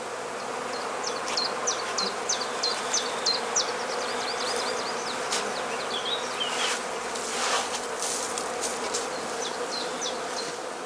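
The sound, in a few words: bees buzzing around a skep hive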